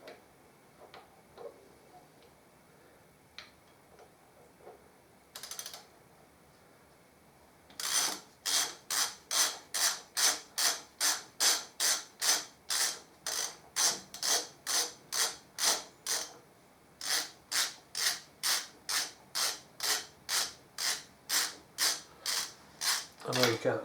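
A ratchet loosens cap bolts on a Harley Davidson Deuce trike, ticking in a steady run of evenly spaced clicks about every half second that starts after a few quiet seconds and continues close and crisp, with no talk.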